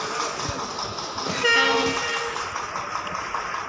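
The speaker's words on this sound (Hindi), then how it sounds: "देखिए श्रमिक स्पेशल ट्रेन सीतापुर की दिशा से देखिए आती हुई" A Shramik Special passenger train hauled by a WDP 4D diesel locomotive approaches from the Sitapur direction at Lakhimpur, giving a steady rumble with a brief horn-like tone midway, moderately loud amid outdoor ambience.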